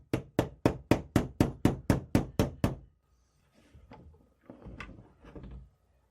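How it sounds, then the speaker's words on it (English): A hammer taps a pin into a military surplus rifle's bayonet lug, giving nine sharp, evenly spaced metallic knocks close up, followed by a few softer handling clatters and rustles. "I'll set the pin most of the way with a hammer."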